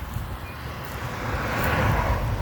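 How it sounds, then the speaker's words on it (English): Road traffic rumbles past nearby in a steady low roar that swells gradually, with wind buffeting the microphone. "Excuse the traffic noise."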